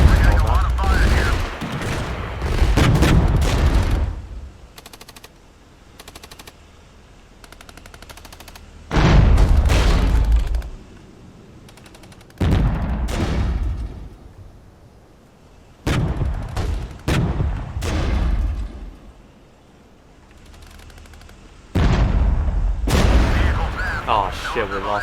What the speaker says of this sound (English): We're getting a lot of fire here.